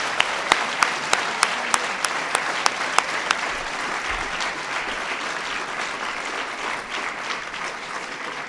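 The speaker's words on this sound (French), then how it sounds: "Et je pense qu'on peut les applaudir" Audience claps at an eloquence contest prize-giving, a steady wash of applause with a few sharp nearby claps standing out at the start, continuing evenly to the end.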